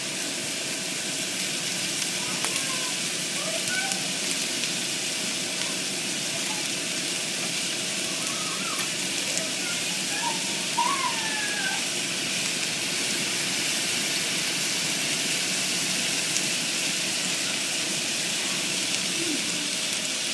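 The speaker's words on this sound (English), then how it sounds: "I'm going to add the garlic." Garlic sautéing with onions in olive oil in a skillet over medium heat, a steady soft sizzle and hiss running throughout with no talk.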